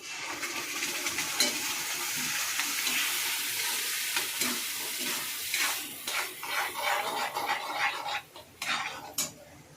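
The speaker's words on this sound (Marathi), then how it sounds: "मसाला तर चांगला तेलामध्ये भाजून घेतलाय।" Ground masala fries in oil in a pan, giving a steady soft sizzle with scraping and clinking stirring strokes that grow more uneven near the end; no one speaks.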